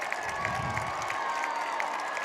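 A high school football crowd at a Downingtown East versus Downingtown West game reacts to a penalty flag with a sustained, steady roar of voices and cheering that fills the stands.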